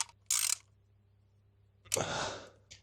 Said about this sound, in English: Then that's when you go in and use the socket and just do about like a quarter turn to get these all snug.